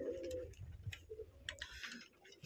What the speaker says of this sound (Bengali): কবুতর খাচ্ছে